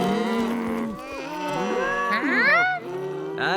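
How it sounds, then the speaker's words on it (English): Scottish cattle in a cartoon moo in several long, loud, overlapping calls that rise and fall, with some higher bellows near the end. "They're just cows. They're Scottish cows."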